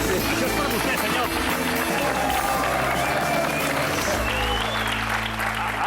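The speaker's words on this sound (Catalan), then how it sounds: "Rebem, amb un fort aplaudiment, sisplau, a Jaime Alguersuari." A TV studio audience gives loud, sustained applause to welcome guest Jaume Alguersuari, dense steady clapping mixed with crowd murmur and music underneath throughout.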